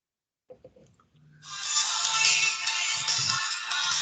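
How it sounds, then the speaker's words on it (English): A phone rings during an online board meeting: a few soft knocks come first, then a loud, steady electronic ringing tone starts and holds to the end, with no talking. "Phone ringing"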